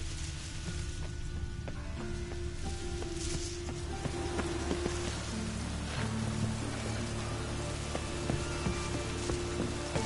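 Steady, even rain hisses throughout a scene in The Witcher 3: Wild Hunt, played on PS4 Pro, with faint sustained tones running underneath and no voices.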